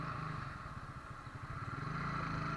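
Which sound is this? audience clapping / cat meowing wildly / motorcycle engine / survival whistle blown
motorcycle engine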